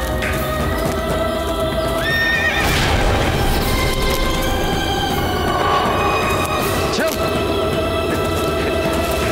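A horse whinnies loudly in two rising, quavering bursts set against dense, continuous background sound, with no voices during the calls.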